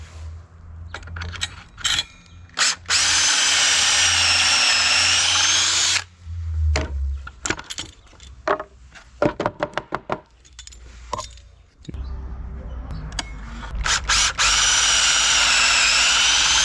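A power drill bores pocket holes in the wooden frame of a fence gate, with loud, close whining bursts of several seconds each, separated by clicks, clatter and brief pauses between holes.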